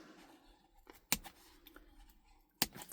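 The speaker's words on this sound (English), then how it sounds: "You can either go like this with some scissors, and I'm literally cutting" Two sharp scissor snips cut binding threads of a bound planner in a quiet room about a second and a half apart, with faint rustling and small clicks in between.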